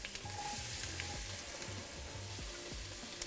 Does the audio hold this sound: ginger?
yes